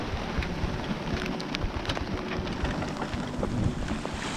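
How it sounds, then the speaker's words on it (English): Heavy rain pours down steadily on a sailing boat under way, a dense, constant hiss with scattered louder drops and no one speaking. "it also started to rain really good"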